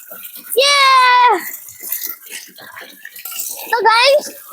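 Water running into an inflatable swimming pool as it begins to fill. A soft, continuous splashing hiss sits low beneath a child's high, loud vocal outbursts at the start and near the end.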